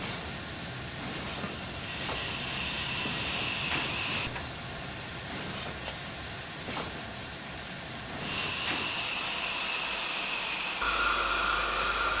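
Steady, loud steam hiss from a BMG Black 5 steam locomotive in a train simulator game, running continuously with shifts in level and a few faint clanks, no voices.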